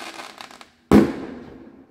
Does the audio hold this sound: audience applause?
no